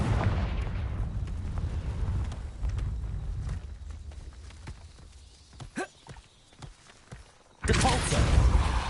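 Confringo blasting curse going off in a Harry Potter video game, booming low blasts and rumbling effects that cut out into quiet stretches with sharp cracks and whooshes, then a loud burst returns at the end.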